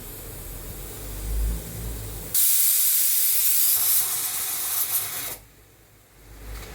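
Pressure cooker full of potatoes releasing steam, a loud sharp hiss that bursts in suddenly, holds steady for about three seconds, then cuts off, with a low kitchen rumble before and after.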